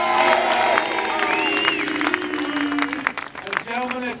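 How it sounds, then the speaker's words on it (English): Applause and cheering from a crowd at an outdoor college football bowl pep rally in Embarcadero Plaza, San Francisco, steady clapping mixed with crowd noise and a voice talking over it, fading slightly near the end. "Give Dave a round of applause"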